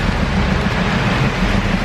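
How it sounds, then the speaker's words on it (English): Heavy rain falls outdoors in London near Buckingham Palace, a dense, steady hiss that fills the whole moment without a break and with no voices. "It's raining so bad."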